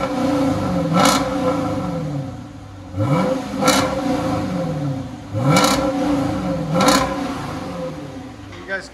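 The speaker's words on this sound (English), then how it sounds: "So that's what it's gonna sound like with just mid mufflers, deletes, and DYNOMAX bullets in their place." A 2013 Dodge Charger with a 5.7L HEMI V8, mid mufflers deleted and DYNOMAX Race Bullet resonators on a dual exhaust, revs loudly four times, each burst rising and falling back to a rumbling idle.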